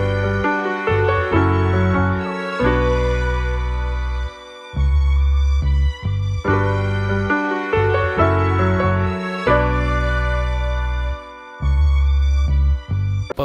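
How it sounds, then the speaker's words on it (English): Dry, unprocessed melody from a vintage-style sample playing alone at a steady moderate level, a repeating phrase of sustained harmonic tones with short breaks between sections and no talking. "So without any processing, the melody sounds like this."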